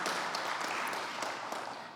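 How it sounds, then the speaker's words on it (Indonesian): An audience at an Indonesian financial regulator's capital-market event claps quietly, giving faint but steady applause that thins out at the end, with no talking. "Boleh tepuk tangan buat kita semua."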